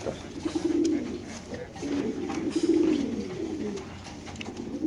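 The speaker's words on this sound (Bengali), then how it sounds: "এটা কালদম কবুতর মাশাআল্লাহ দেখতে পাচ্ছেন।" Kaldom pigeons in a numbered cage at a pigeon market coo in repeated low, rolling phrases, fairly close, with a busy background of market noise and faint voices.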